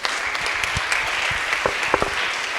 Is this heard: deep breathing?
no